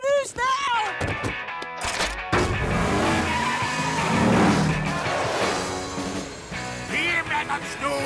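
Cartoon car skidding with squealing tires and then speeding away during a chase, loud engine and tire noise building and fading over music and sound effects, with a character's voice briefly heard.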